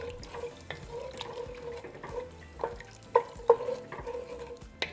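Beef stock being stirred into a pot roast broth with tomato paste, giving soft, steady swishing and liquid sloshing, with a few sharper clinks of the spoon near the middle and no talk.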